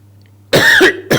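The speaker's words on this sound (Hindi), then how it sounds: "आज खांसी हो रही है दोस्तों" Two harsh, loud coughs close to the listener, the first longer and rasping, the second cut short, after a moment of low hum.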